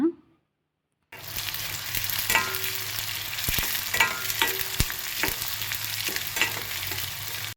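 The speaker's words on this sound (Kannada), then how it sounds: "ಒಂದು ಈರುಳ್ಳಿನ ಕಟ್ ಮಾಡಿ ಹಾಕಿದ್ದೀನಿ ಇದಿಷ್ಟು ಫ್ರೈ ಆಗಲಿ" Chopped onion fries in hot oil with mustard seeds, cumin and curry leaves, a close, steady sizzle with scraping stirs, starting after a brief pause and running alone without talk.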